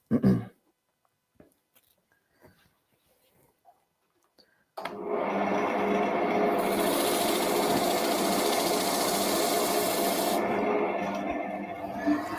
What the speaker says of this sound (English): I'm going to sand as much of that as I can while it's still in the lathe